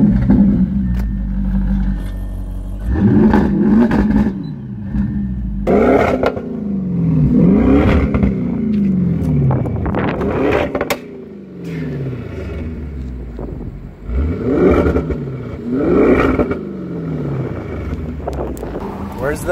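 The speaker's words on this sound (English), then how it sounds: "We get our RPMs up, you get the exhaust." A 2017 Audi RS7 with a titanium exhaust revs repeatedly, each sweep rising and falling, with wind buffeting the microphone and some talking between the revs.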